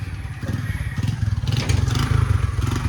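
A motorcycle is kick-started and its engine catches, settling into a loud, rhythmic idle thump with some clattering on top.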